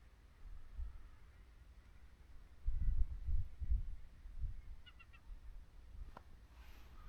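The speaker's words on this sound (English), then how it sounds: "You can hear all the birds down there." Distant birds calling and honking from far below a sea cliff on the Scottish coast, faint and scattered over steady wind and outdoor rumble, with a few louder squawks midway.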